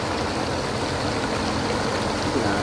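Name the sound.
water rushing over a flooded road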